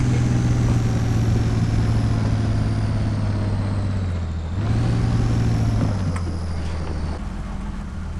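A steady, droning truck engine in the video game Spintires hums at a low pitch, dipping briefly and revving back up, with a faint mechanical whine above it and no talk.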